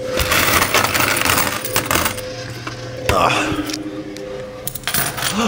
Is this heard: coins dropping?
yes